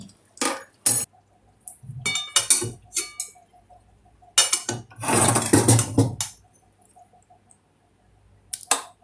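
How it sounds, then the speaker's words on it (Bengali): Prawn curry poured and scraped from a pan into a bowl, a run of close clicks and metal-on-metal scrapes with a longer wet scraping burst in the middle, separated by brief silences. "এবার একটা পাত্রে আমি ঢেলে নিচ্ছি"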